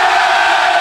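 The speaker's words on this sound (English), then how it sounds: "Let's have a cheer if you're here for England tonight!" A live audience cheering at an England rugby show, a loud, dense and steady roar of shouts and whoops that fills the whole short moment.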